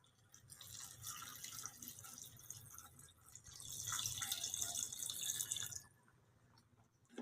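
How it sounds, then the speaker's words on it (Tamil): Water poured into a pot of mutton kulambu, a steady trickling and splashing that builds louder midway, then cuts off, leaving quiet drips. "தேவையான அளவு தண்ணி சேர்த்துக்கலாம்."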